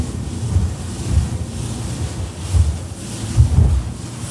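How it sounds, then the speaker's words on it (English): Axopar 37 XC Cross Cabin boat turning into choppy swell, with low rumbling thumps of hull and waves recurring every second or so under steady wind buffeting on the microphone. "So now we go into a turn against the waves again."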